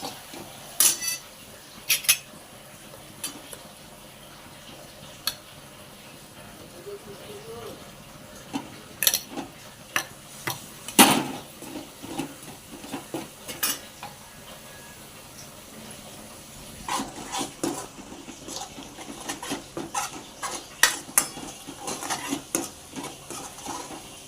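Ground masala paste being stirred into a pot for a creek prawn curry, with sporadic sharp metallic clinks and scrapes of a spoon against the pot over a quiet kitchen background.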